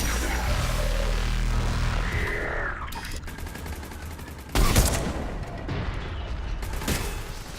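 Gunfire in the Mass Effect 3 video game during the assault on Thessia: sharp bursts and a heavy boom cut through low rumbling, loud and close, with scattered shots trailing after.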